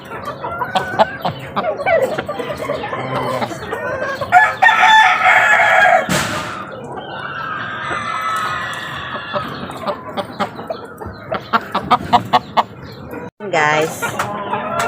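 Pet chickens cluck and a rooster crows loudly nearby, with busy calling throughout and a person talking over the birds.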